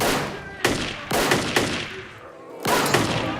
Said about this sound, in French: On entend des coups de feu alors que personne ne tire.